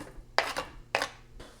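Chopped onion tipped into a skillet holding a tablespoon of butter, giving two quick scraping clatters of utensil on pan, quiet and close, with a softer scrape at the end and no voices.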